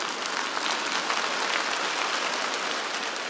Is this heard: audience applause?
yes